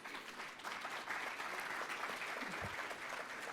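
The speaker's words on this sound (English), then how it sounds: "give him a round of applause" Audience applause for Nigeria's State Minister of Finance, Clem Akbar, at an open-government regional meeting: steady, dense crowd clapping sustained at even loudness from start to finish, fairly distant and hall-like.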